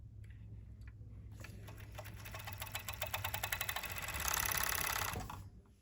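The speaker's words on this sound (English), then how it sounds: "we're going to serge at 1/4 inch this diagonal edge" A serger stitches a quarter-inch seam along the diagonal edge of a stacked ribbed V-neck band, a steady close mechanical whir that rises in speed and loudness before winding down.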